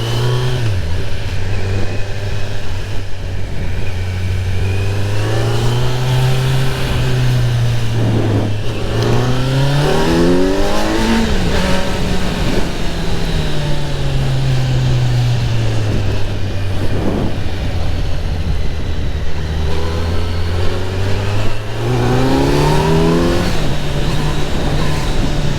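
A Kawasaki Z900 motorcycle engine revs up and down repeatedly on a neighbourhood street, loud and close, its pitch climbing and falling in long accelerating sweeps throughout.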